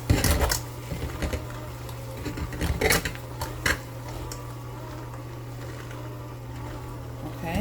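Beaten egg being mixed into a batter for Puerto Rican cornmeal sorullitos, with clinks and scrapes of a utensil against a bowl, a few sharper knocks early on, and a steady low hum underneath throughout.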